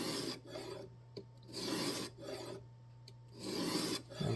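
Three rasping swipes of a knife blade drawn across a sharpening stone held in a jig, each stroke a gritty scrape separated by short pauses, close and fairly quiet.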